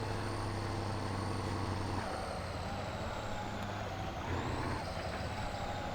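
A Gaz truck's engine in the off-road driving game Spintires drones loudly and steadily, its pitch dipping and rising as the load shifts, with no talking.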